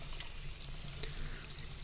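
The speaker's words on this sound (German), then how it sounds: "Jetzt haben wir so einen Schlauchanschluss und müssen da das Wasser auffüllen." Water flows steadily through a hose connection into a camper van's fresh water tank, a continuous pouring rush with a low hum underneath, fairly close and uninterrupted for the whole stretch.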